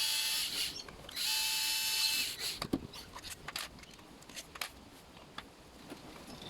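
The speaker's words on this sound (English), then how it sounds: "I'm going to remove the screw that holds the air filter base" Screws come out of the carburetor mount and air filter base on a Robin NB2100 brush cutter, two bursts of a small power driver whirring up front, then faint scattered clicks and taps of the tool and loose parts.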